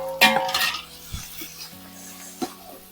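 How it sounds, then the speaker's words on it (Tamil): Ginger and garlic sautéed in a pan for chicken biryani: a spatula scrapes and clanks against the metal pan in irregular strokes, with a soft sizzle underneath, close and fairly loud. "இஞ்சி பூண்டு நல்லா வதக்கிட்டு"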